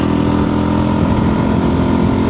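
Steady, loud, throaty growl from a motorcycle engine fitted with a mild steel exhaust, a continuous close rumble with no talking.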